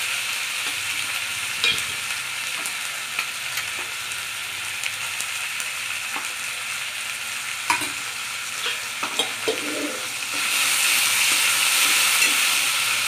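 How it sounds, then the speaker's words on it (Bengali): Ginger, chili and cumin paste fries with onions for a chicken stew, a steady close sizzle broken by scraping, clinking stirs, growing louder and hissier near the end. "আর এক চামচ জিরে বাটা দিলাম, দিয়ে ভালো করে নেড়ে নিলাম একটু।"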